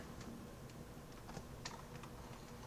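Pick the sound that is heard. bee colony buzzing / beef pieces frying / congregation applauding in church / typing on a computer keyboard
typing on a computer keyboard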